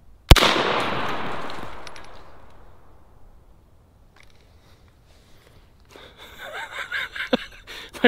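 A single sharp M1 carbine shot cracks very loud and close as the round strikes a brick, then a long echoing decay fades to quiet before footsteps and shuffling movement follow.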